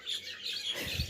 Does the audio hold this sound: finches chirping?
yes